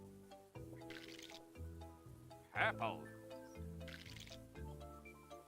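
Liquid pours with a brief splashy gush in the Rainbow Fish: The Most Beautiful Fish in the Ocean video game, heard once mid-clip over light game music while a person keeps talking.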